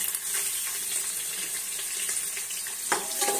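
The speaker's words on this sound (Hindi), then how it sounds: "तेज पत्ता डालने के बाद हम इसके जो प्याज हमने प्याज काटे थे वो डालेंगे" Bay leaf and chopped onions sizzle steadily in a hot pan for Maharashtrian Khandesh-style khichdi, a continuous close frying hiss with a brief louder crackle and clink near the end.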